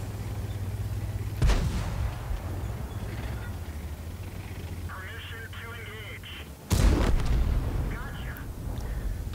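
Two heavy tank cannon blasts in the World of Tanks game, each a sharp booming report with a rumbling tail, spaced several seconds apart, over a low engine drone and faint game beeps and chimes.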